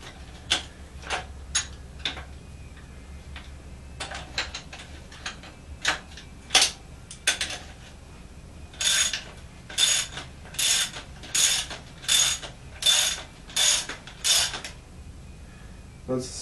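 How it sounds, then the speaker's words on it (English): A ratchet wrench and socket tighten an aluminum nut on a motocross fork. It gives a series of sharp, close clicking bursts, scattered at first and then settling into a regular back-and-forth ratcheting rhythm over a quiet background. "put a wrench on there. And a socket on the nut."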